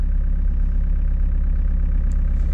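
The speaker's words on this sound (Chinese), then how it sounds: "现在听我的，你自己稍稍加点油门。" A hydraulic excavator's diesel engine runs with a steady, deep drone as a light throttle is added, a continuous close rumble with no change in level and no voices.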